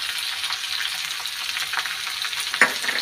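Radish frying in oil with turmeric in a pan gives a soft, even sizzle close by, with light stirring and a sharp scrape of the utensil near the end.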